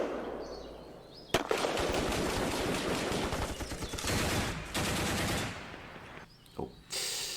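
Units fire in the wargame Panzer Campaigns France 40, a dense burst of rapid machine-gun and rifle fire rattling for several seconds with a few sharp single reports and brief pauses, loud and alone.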